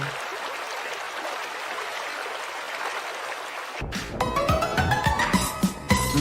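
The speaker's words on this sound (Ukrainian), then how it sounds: "Річка." A hissing, rushing wash like a flowing river stream plays during a children's autumn-forest performance at a kindergarten. After several seconds it gives way to brighter, tonal music.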